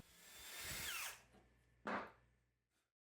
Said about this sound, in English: used a drill block to get nice and straight dowel holes